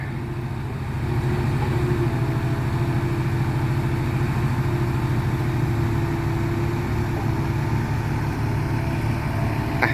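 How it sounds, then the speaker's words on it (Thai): Tractor engine running steadily at an earthworks dirt-dumping site, a loud continuous low rumble with constant tone throughout and no talk. "ไปดู รถไถจาก M62"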